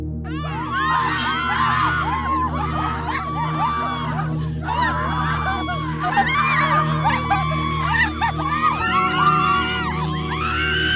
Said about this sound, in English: You hear the screams and the cries of the innocent ones you took their life.